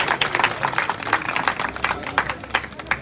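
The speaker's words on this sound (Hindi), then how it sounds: "जोरदार तालियां बजा दे पूरे निमली वासियों के लिए, इन माताओं बहनों के लिए, इन बच्चों के लिए जोरदार तालियां हो जाए" Outdoor crowd at a Bhim Army rally celebrating Ambedkar's 134th birthday claps steadily, a crisp, irregular patter of many hands at moderate distance, continuous for the whole stretch.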